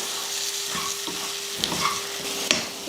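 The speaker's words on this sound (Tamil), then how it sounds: "அடுப்பை வந்து சிம்மில் வச்சுட்டு இந்த மாதிரி வதக்கிடணும்" Onions and tomatoes sizzle steadily in a hot pan on low heat while a utensil stirs and scrapes, with a few sharper clicks against the metal; no voices.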